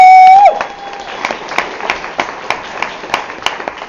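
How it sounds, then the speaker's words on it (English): An audience at a speech about job training gives a round of applause: a brief electronic tone at first, then scattered, fairly sparse claps at moderate distance. "Let's give a round of applause."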